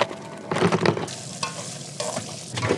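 Food frying in hot oil with busy bursts of sizzling and crackle, alongside intermittent scraping and stirring, close and fairly loud throughout with no talk.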